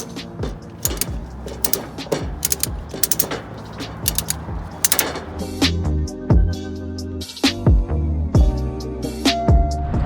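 A ratchet strap is cranked tight on a tow hook to secure a McLaren for towing, giving rapid, loud, close mechanical clicks in repeated strokes with short pauses and no talk.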